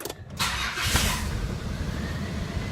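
A newly bought car's engine runs close by after a brief start-up burst, a steady broadband hum and rumble continuing evenly with no talk.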